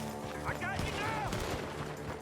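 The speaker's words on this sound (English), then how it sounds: "The gunshots are coming from that barn!" Gunfire from a barn during an ambush in the video game Red Dead Redemption 2, a few sharp shots mixed with game music and strained voices, fairly loud and steady throughout.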